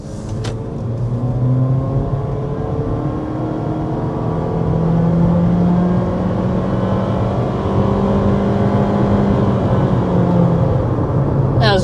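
2027 Honda HR-V with a CVT accelerates from inside the cabin, giving a steady engine hum whose pitch rises slowly and smoothly under road noise, with no one speaking.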